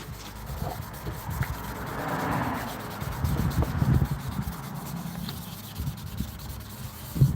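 Hand rubbing and polishing with G3 compound and 1500 grit on a Honeywell Turbovisor DTVR unit, a close, irregular scrubbing with soft strokes and small knocks.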